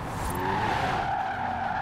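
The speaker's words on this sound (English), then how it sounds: "I'm drifting a limo, and it's actually good." A 1450HP AWD Cadillac limo drifts in Forza Horizon 4, its tires squealing and skidding in one sustained, loud screech with engine drone underneath.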